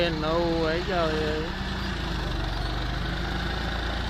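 A tractor engine runs at a steady, low idle while a loader fills its trailer, with a voice heard briefly over the rumble at the start before the engine drones on alone.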